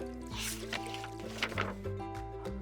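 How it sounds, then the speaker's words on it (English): A cartoon dog lunging and splashing in water, with several wet splashy bursts over steady background music. "Dog lunged and splashed."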